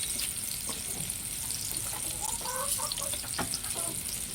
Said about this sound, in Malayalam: നമ്മുടെ അച്ചിങ്ങ അല്പം എണ്ണ ഒഴിച്ചു കൊടുക്കാം